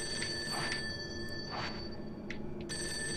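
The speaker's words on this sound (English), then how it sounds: "Okay, I gotta pick up the phone." A telephone in the Fatal Frame 5 video game rings faintly with a steady electronic tone and soft repeating chirps over low background ambience.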